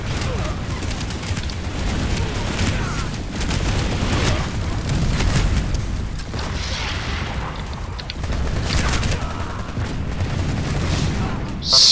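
A grenade explodes in the video game Planetside 2 amid dense combat, with repeated loud booms and rattling gunfire throughout and voices talking over the battle noise.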